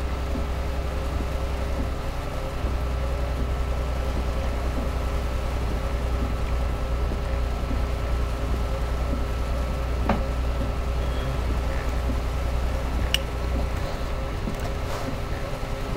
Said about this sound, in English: A lot of rain. Never had this much rain.